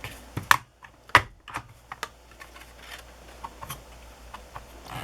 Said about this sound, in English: So it's only going to have 4 holes punched in it.